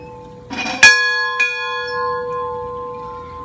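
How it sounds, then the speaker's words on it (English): An old wooden schoolhouse bell in Saint Augustine, Florida, rung to call students to class: two clear metallic strikes close together, leaving a long, steady ringing tone that slowly fades. "That's how they call the students to class. With this bell."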